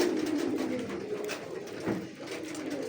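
Pigeons coo softly and repeatedly nearby, low throaty calls overlapping against a faint background hum.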